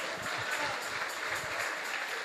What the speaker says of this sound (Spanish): Ahora sí, esas palmas para Cristo.